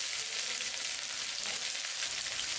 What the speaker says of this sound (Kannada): ಸ್ವಲ್ಪ ಈರುಳ್ಳಿನ ಹಾಗೆ ಬಾಡಿಸ್ಕೋಬೇಕು ಇವಾಗ ಎಣ್ಣೆಯಲ್ಲಿ.